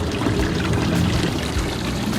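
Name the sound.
cold spring water flowing from basalt rocks at Garni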